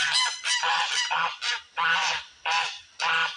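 Loud, close geese honking in a rapid series of harsh nasal calls, about six or seven bursts with short gaps between them.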